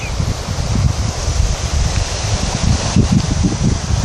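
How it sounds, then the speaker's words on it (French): Steady coastal wind gusting through vegetation near sunset, a continuous rustling whoosh with no voices, close and fairly loud throughout. "le vent qui souffle dans les différents végétaux"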